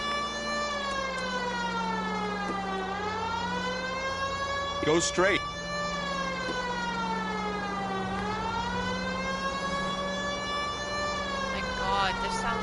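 A wailing air-raid-style siren in the video game L.A. Noire rises and falls in long sweeps, loud and continuous throughout, with someone talking over it.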